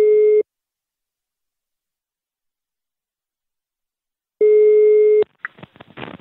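A telephone line tone sounds while a call is being placed, two steady beeps separated by a long silence, clear and close, followed by faint rustling noises.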